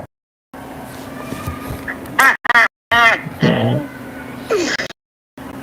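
A female duck gives several loud, nasal quacks close by, in short separate bursts spread over a few seconds, with background noise and a little talking between them.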